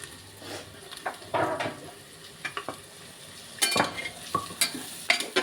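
Chopped onion sautéing in a pan for khichdi gives a soft, continuous sizzle, broken by sharp scrapes and clinks as a spoon stirs it in bursts.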